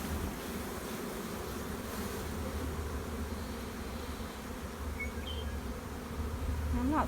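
Honey bees buzz steadily over an inspected hive frame, a dense continuous hum filling the clip at close range.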